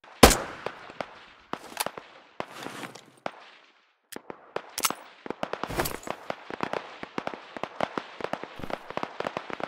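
Heavy enemy gunfire in the video game Operation Harsh Doorstop, with dense bursts of sharp cracking shots and explosive pops that go on almost without a break and briefly drop out near the middle.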